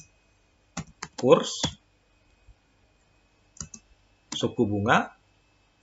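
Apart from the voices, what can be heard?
typing on a computer keyboard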